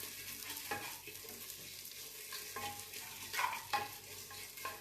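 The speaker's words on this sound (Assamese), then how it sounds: "ভালকৈ ভাজি ল'ব লাগিব" Moong dal frying in a pan while being stirred, a steady quiet sizzle with scraping strokes of the spoon, a few louder clinks near the end, no one talking.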